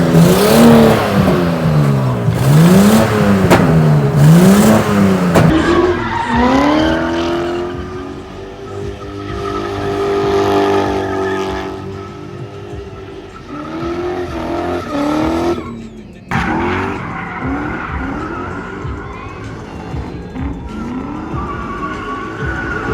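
Cars drift at the Promotors Show SOF Expo 2025 in Samarkand, with engines revving loudly and tires squealing. The pitch sweeps up and down in long, continuous runs, then settles into a steadier roar with a sharp break near the end.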